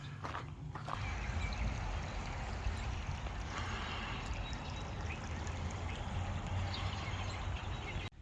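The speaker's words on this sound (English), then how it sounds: "water is bubbling up from the ground underneath this building here" Spring water bubbles up from the ground beneath a building into a stream in rural Tennessee, a steady, dense gurgling wash that runs continuously at moderate loudness with no talking.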